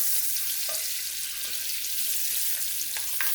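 Butter melting in a pan with cooked sausage for a creamy Cajun potato soup, a steady, soft hiss of frying with a few small pops and crackles near the end, no speech.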